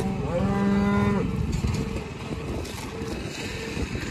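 A registered red Angus cow in a pasture gives one loud, drawn-out moo close by, followed by a steady rumbling background noise.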